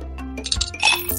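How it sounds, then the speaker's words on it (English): Ice cubes clinking and plopping into an iced coffee drink in a cartoon game, a quick cluster of bright glassy dings and splashy hits over about a second. "Drop in some ice cubes!"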